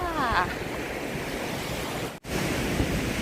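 Sea waves wash steadily onto a beach at Sattahip in Chonburi, a continuous loud surf hiss with gusts of wind buffeting the microphone and a brief dropout midway.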